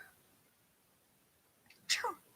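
A single sharp sneeze bursts out near the end after a quiet stretch, loud and close.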